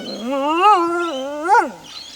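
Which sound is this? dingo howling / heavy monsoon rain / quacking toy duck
dingo howling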